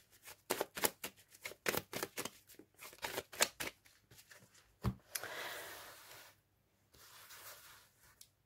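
Tarot deck shuffled by hand for a reading, a quick run of crisp riffling bursts followed by softer sliding and rustling, close and fairly quiet, with no talk.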